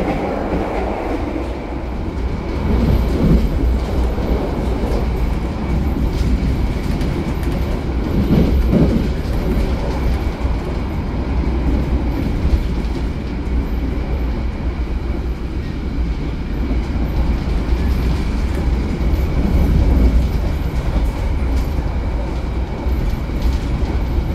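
A KA Turangga panoramic passenger train runs at night between Surabaya and Bandung, its steady low rumble and rail noise continuous and fairly loud throughout, with faint rhythmic wheel clatter and no talk.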